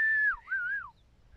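A person whistles to halt donkeys pulling a cart, a single melodic whistle rising and dipping in pitch for under a second, close and fairly loud over faint low background rumble.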